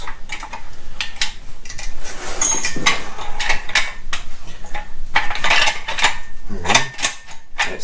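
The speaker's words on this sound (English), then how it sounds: "The bolt slides in nice." A bolt slides into a Honda Magna motorcycle wheel during a CBR wheel swap, producing close metallic scraping, clinks and ratchet-like clicks in quick irregular bursts.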